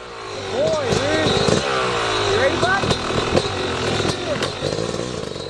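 A motorbike rides along with its engine running while a dog is aboard: a steady engine drone with rising and falling revving pitch sweeps, fairly loud and close.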